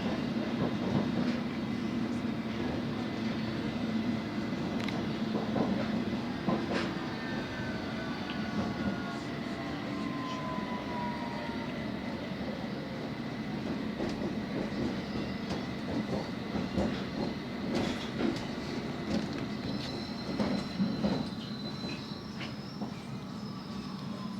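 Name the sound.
London Underground Hammersmith & City line train running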